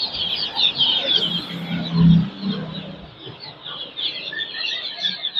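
A flock of 45-day-old broiler chickens clucks and chirps steadily. The calls overlap in a continuous, fairly loud chorus with a few lower clucks near the middle, and no voices.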